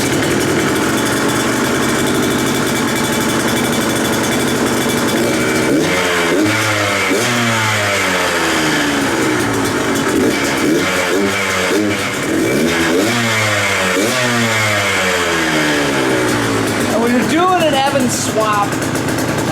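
A 2021 KTM 125XC two-stroke dirt bike with a newly installed RK Tek head runs loud and close, idling and revving repeatedly with rising and falling engine pitch throughout.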